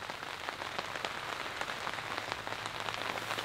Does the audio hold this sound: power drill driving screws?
no